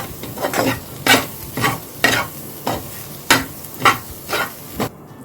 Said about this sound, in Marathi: आता ती सगळं मिक्स करून घेऊया